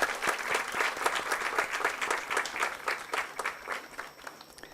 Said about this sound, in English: So let us clap for both of them